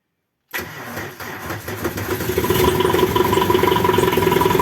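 A cold car engine cranks briefly after a moment of silence, catches, and settles into a loud, steady, rumbling idle close by.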